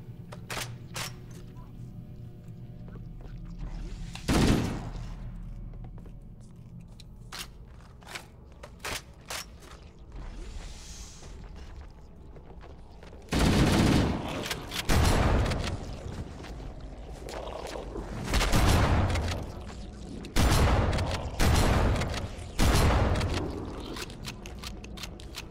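Gunfire in the Halo video game: a single sharp blast early on, then a cluster of loud, heavy shots in quick succession near the end, over a low background rumble.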